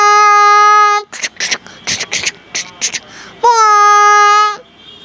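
A voice mimics a train, a long steady horn-like hoot, a burst of choppy chugging puffs, then another sustained hoot.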